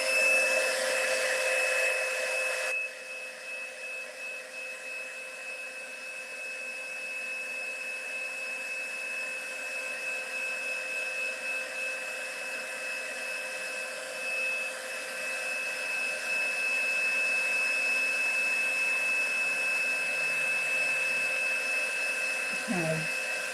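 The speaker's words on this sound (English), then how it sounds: "We're going to get the heat tool again." A craft heat tool blows hot air steadily over a watercolor-painted card for about twenty seconds, a loud continuous whirring hiss with a high whine, alone without talk.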